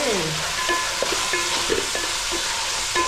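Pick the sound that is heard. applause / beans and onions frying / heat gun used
beans and onions frying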